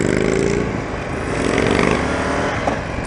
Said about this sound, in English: When you got an aftermarket pipe on there, like this one has, it should be way louder than what it is for me.